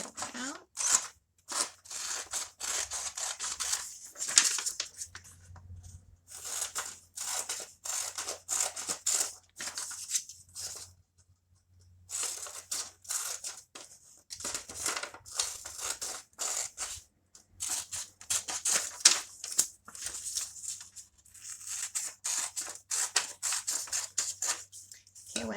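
Scissors cutting a paper square, with many rapid snipping bursts in irregular runs separated by short pauses. The cuts are close and crisp, with brief talk mixed in.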